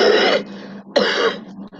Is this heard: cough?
yes